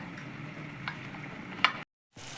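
Pieces of pointed gourd (potol) frying in oil give a soft, even sizzle with a couple of brief ticks, then a short break of silence before the frying resumes.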